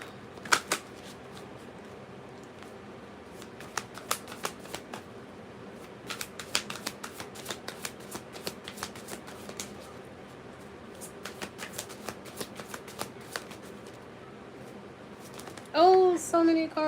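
A tarot deck being shuffled by hand, with sharp clusters of riffling card snaps in repeated bursts, close and crisp, and a voice briefly speaking at the very end.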